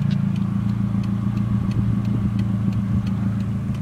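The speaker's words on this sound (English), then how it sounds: "this will be an exhaust video for y'all" Nissan 240SX with a KA24E engine, its exhaust giving a steady, deep rumbling drone with a faint rhythmic clatter, loud and close with no talking.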